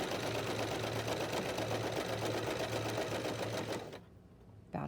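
A sewing machine stitches fabric close to the work, running in a steady, loud mechanical whir for about four seconds before stopping abruptly, leaving quiet.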